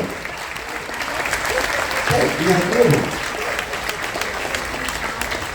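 Crowd applause aboard the cruise ship Carnival Dream rises and swells through the middle, with a voice talking briefly over the clapping.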